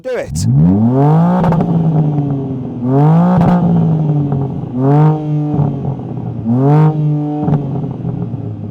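A car engine with no soft limiter is revved hard four times in succession, each loud, close blip climbing steeply in pitch and then falling back toward idle between bursts.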